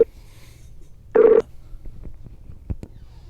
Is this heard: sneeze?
no